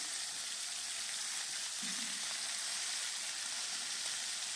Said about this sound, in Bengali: প্রথমে আমি মাছগুলো দিয়ে দিলাম কড়াই তেল গরম হয়ে গেলে